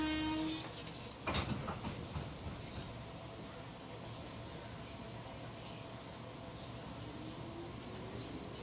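A KRL commuter train rolls into Tanjung Barat station, a steady low rumble and rattle of wheels and carriages heard from inside, with a brief chime and sharp clunk near the start, fairly quiet and continuous.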